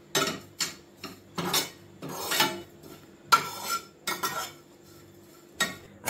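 Grated coconut is roasted in a pan and stirred with a metal spoon, giving scraping, clinking strokes in irregular bursts close by, with quiet gaps between them.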